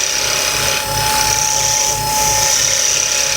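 A wood lathe spinning a wooden pen blank turned down to the bushings, a loud continuous whirring drone with a high steady whine and a faint rhythmic rumble, no voices.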